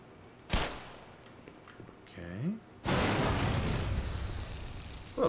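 Gunfire in Black Mesa, a sharp single shot followed later by a long sustained roar of rapid shots, with a brief whining swoop before it and a voice speaking briefly.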